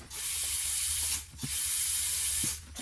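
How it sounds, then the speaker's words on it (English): Carburetor cleaner sprayed through a Honda Civic fuel injector in two sustained hissing bursts, close and loud, separated by a short pause. "use a carburetor cleaner to clean this fuel injector"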